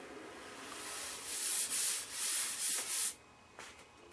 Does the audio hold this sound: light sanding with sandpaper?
yes